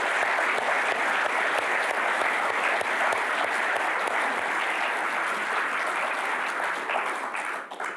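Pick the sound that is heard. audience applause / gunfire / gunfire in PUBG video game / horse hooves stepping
audience applause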